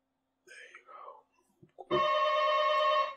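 A telephone rings with a steady, bright electronic tone that starts abruptly and holds loud and continuous, following a few moments of soft background speech and small knocks.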